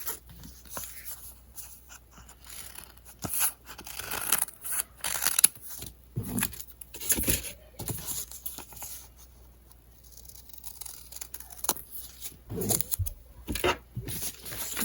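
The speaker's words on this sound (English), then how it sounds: "Now you're going to cut this out for the template." Scissors snip through paper to cut out a face mask template, giving irregular close crisp cuts and rustles with brief pauses, no voices.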